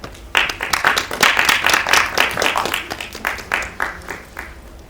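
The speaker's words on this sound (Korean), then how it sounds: "큰 박수 해주시면 자리로 게스트분들 모시도록 하겠습니다" Sustained audience applause at a press conference for a documentary film screening, dense steady clapping from a crowd that swells quickly and then slowly thins out.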